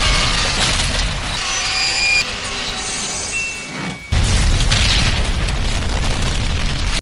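A loud, sustained roaring blast of an overturned truck exploding, filling the whole clip, dipping briefly before surging again even louder.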